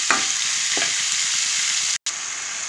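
Fish pieces fry in hot oil with a dense, steady sizzle, a few utensil knocks near the start, and a brief cut of silence partway through.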